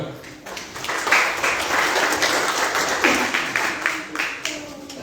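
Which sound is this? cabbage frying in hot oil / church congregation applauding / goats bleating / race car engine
church congregation applauding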